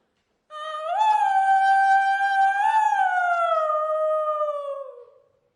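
A man gives one long, sustained howl imitating a dog or wolf, rising at the start, wavering once midway and sliding down to fade out, loud and alone with no other sounds.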